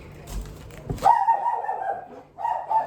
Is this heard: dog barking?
yes